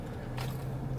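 A bite into a greasy slider hamburger with pickles, a single soft close squishy bite and brief chew, quiet with no talk.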